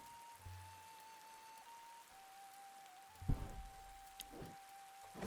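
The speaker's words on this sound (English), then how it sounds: "It does rain though." Steady rain falls in the video game Dead in Vinland, a soft even hiss with a faint continuous tone running underneath and a few louder drops or splashes near the end.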